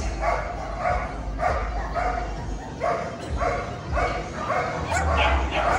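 A trained protection dog barks repeatedly on command, a series of sharp, fairly close barks in an uneven rhythm, with some whining between them.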